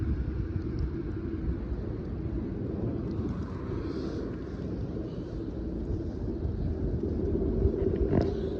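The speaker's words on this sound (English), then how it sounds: "There go the iconic orange trucks" Orange snowplow trucks clearing snowy New Jersey roads during the 2024 blizzard, a steady low rumble of heavy engines passing at a distance with wind noise, no talking.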